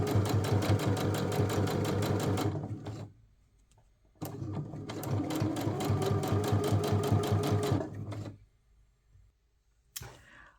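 Sewing machine stitching along the edge of a fabric bookmark, running in two steady bursts of rapid mechanical clatter with a short pause between and a brief knock near the end.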